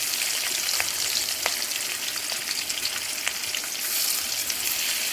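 Hilsa fish frying in hot oil in a wok, a dense, even sizzle with small crackling pops, close and steady throughout with no voices.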